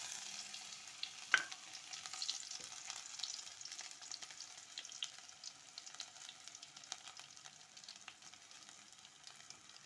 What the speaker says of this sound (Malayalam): ഉലുവ നല്ലപോലെ പൊട്ടി വന്ന് നമുക്ക് ഇനി അടുത്തത് ഉള്ളിട്ട് കൊടുക്കാം